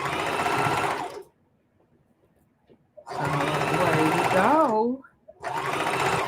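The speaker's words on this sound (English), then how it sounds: "So I'm going to double stitch around here." A sewing machine double-stitches a patch onto a vintage rag quilt in two loud bursts of fast, buzzing stitching, separated by a pause. It starts up again briefly at the end, and a short spoken word comes between the runs.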